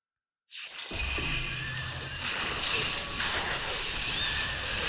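In the mobile strategy game King God Castle, a horse neighs over a dense hissing, rushing backdrop that begins suddenly and holds steady for several seconds.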